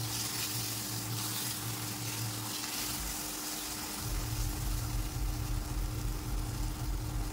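Drumstick flower and tomato chutney being stirred in a pan, with a steady soft sizzle and scraping throughout and a low hum that pauses briefly midway before returning.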